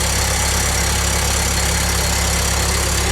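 A Ford 2N tractor engine with electronic ignition idles steadily at close range, a loud continuous mechanical drone with no voices over it.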